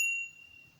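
A single bell ding rings out clearly at the start, then fades away quietly over less than a second with no voices.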